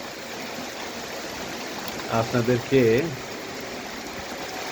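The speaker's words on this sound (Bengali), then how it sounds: "এই বৃষ্টির এই সৌন্দর্যটা দেখানোর জন্য নিয়ে আসলাম অনেক সুন্দর লাগছে" Constant broadband rain hiss fills the whole clip, with a short stretch of speech in the middle.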